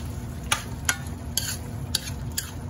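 A utensil stirs liver adobo ingredients with sesame oil in a pan, giving five sharp scraping clinks at irregular intervals over a low sizzling bed, close by and without speech.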